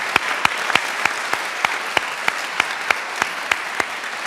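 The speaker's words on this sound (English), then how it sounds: "Let's give them a round of applause." Applause from an audience at a faculty convocation ceremony, steady clapping with regular sharp claps standing out, sustained and fairly close throughout without speech.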